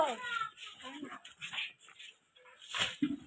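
A dog whimpers and whines in short, high yelps, with people talking nearby over it.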